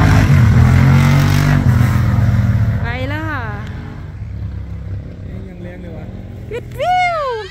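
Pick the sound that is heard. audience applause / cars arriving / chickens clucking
cars arriving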